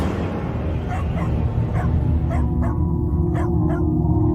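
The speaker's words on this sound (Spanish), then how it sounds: "Entré por la ventana y el perro no dejaba de ladrar." A house dog barks repeatedly in short sharp yaps over a loud, constant rumbling background, the barks fairly close and spaced irregularly.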